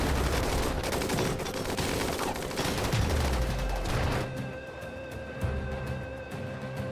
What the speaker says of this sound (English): That was so many rockets.